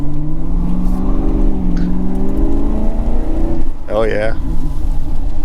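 A 2006 Ford Crown Victoria P-71 Police Interceptor idles with a low, steady engine rumble, then a brief rising rev swell near the end, heard close, with a voice briefly speaking over it.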